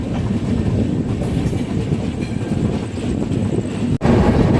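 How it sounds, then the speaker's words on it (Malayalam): Train 16528 from Kannur to Yesvantpur rolls into Palakkad Junction at night with a loud continuous rumble and clatter, broken by a brief dip near the end before the roar resumes. "ഇവിടെ അങ്ങനെ പാലക്കാട് ജംഗ്ഷൻ റെയിൽവേ സ്റ്റേഷനിലേക്ക് എത്തിക്കൊണ്ടിരിക്കുക കേട്ടോ. 4ാമത്തെ പ്ലാറ്റ്ഫോമിലേക്കാണ് നമ്മുടെ വണ്ടി വരുന്നത്."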